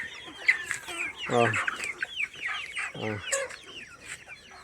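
Chickens kept in a vegetable garden cluck and squawk nearby in irregular bursts, including a few louder, sharper calls, with no talk over them.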